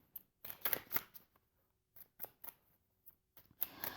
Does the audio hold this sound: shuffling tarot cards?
yes